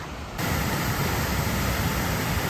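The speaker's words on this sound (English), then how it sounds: "It's a waterfall." A waterfall on a canoe route in Temagami, a strong, steady rushing roar that begins abruptly after a quieter moment and then holds continuous and close.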